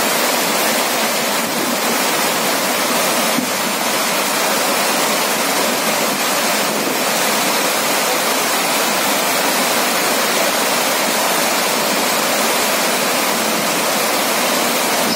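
Water overflowing the Aji dam in Rajkot, a loud, steady roar of rushing water that continues unbroken with no voices.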